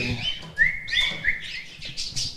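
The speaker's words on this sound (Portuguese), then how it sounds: "Vocês têm um montão de passarinhos. É praticamente um viveiro." Many pet birds in a home aviary chirp and tweet together, a steady overlapping chorus of bright, close calls with short whistled notes rising above the mix.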